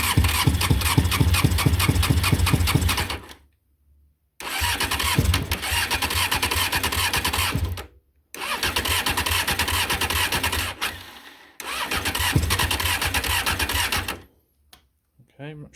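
A Honda CBR600F motorcycle with a rough-idle fault is started up in four separate bursts of cranking and engine running, each a few seconds long and split by short silences, loud and close.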